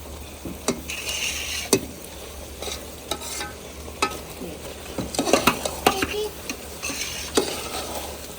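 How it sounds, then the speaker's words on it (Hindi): Rice poured into a cooking pot on a stove, with sharp scattered clinks and scrapes of a spoon against the pot over a soft sizzle and faint background noise. "अब ना इसके अंदर जो है ना अम्मा जी सारे चावल डालने लगी हैं"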